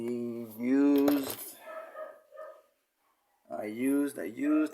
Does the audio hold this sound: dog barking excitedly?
yes